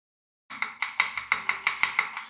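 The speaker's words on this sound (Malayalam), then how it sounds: "അങ്ങനെ സവാളയൊക്കെ അരിഞ്ഞ് കഴിയും" Onions being chopped with a knife on a board: about eight sharp, evenly spaced chops in quick rhythm, close and clear with no talking.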